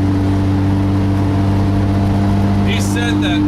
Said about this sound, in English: Open exhaust. Love it.